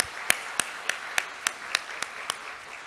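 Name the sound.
congregation applause in church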